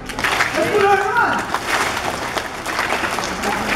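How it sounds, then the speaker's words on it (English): A crowd claps at a sea lion show at an ocean park. The applause is steady and mid-distance, with a voice talking loudly over it and bits of crowd noise underneath. "Say good applause, give up your hands!"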